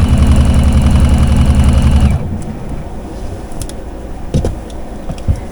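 A sewing machine runs in a steady, loud mechanical drone while stitching the fabric of a romper being remade into a dress, then stops abruptly after about two seconds, leaving quieter room noise and a few faint handling clicks.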